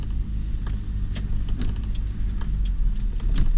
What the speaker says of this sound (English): And I'm driving in traffic